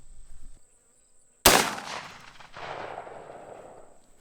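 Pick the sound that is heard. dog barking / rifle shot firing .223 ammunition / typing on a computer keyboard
rifle shot firing .223 ammunition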